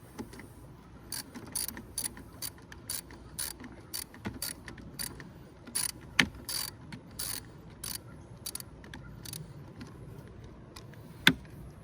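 A ratchet with a 10 mm socket tightens a car battery terminal on a Mercedes C300 W204, giving off quiet, close clicking in short irregular bursts with soft pauses between strokes.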